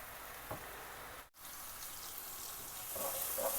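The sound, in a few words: boiled mash lentils being strained, water draining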